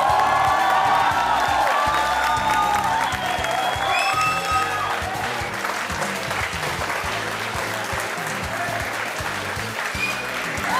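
A studio audience at a television courtroom show claps loudly to welcome film star Irrfan Khan, dense sustained applause with a few cheers and whoops that eases slightly toward the end.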